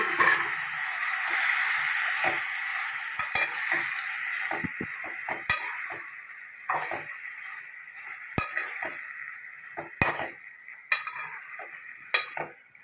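Mutton fries with ginger garlic paste in a pan, starting with a strong sizzle that eases off while spoon scrapes and clinks against the pan come irregularly and close up.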